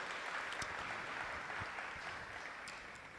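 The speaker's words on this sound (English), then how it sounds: "can we give a big round of applause to all of them as well?" A gathered crowd at a Balarama Jayanti festival applauding the cooks, a soft, even patter of many hands clapping at some distance that eases slightly toward the end.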